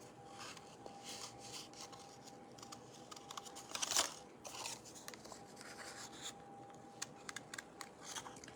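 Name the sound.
scissors cutting card paper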